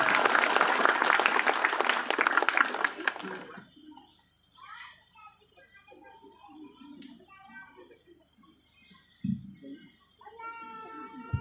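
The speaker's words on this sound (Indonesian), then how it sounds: "Kita sambut dengan tepuk tangan yang paling meriah." Church anniversary celebration crowd claps loudly for a few seconds; the applause then cuts off, leaving a quiet room with scattered faint voices and a brief thump.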